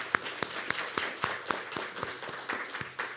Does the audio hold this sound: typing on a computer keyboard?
no